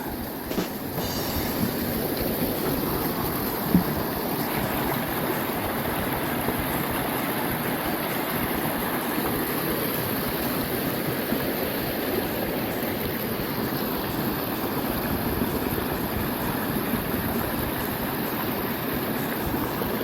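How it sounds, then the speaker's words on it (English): Rushing rapids of Whitewater Creek, seen from a tent site right on the water along the Pacific Crest Trail, give a steady, loud, continuous roar that fills the whole stretch without pause or voices. "I don't think the rapids look that bad."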